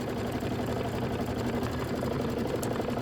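An embroidery sewing machine runs continuously while stitching a quilt block, a fast even mechanical whir and rattle heard close and loud without pause.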